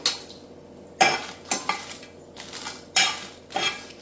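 Dried red chillies roasting in a dry pan, heard as a few separate clinks and scrapes of a spoon stirring against the metal, with quiet gaps between strokes and a faint sizzle underneath.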